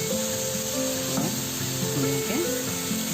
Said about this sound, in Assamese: লাহে লাহে যাতে শাকখিনি তেলত সুন্দৰকৈ ভাজ খায়।